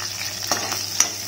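Onion and garlic frying in a pan at home, with a steady soft sizzle and a couple of brief stirring scrapes, close and fairly quiet.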